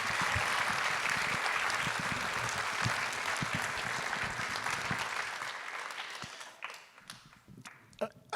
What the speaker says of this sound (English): if we could give Amy a round of applause